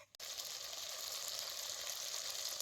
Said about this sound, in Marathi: आता ह्याच्यात जरा पाणी वतो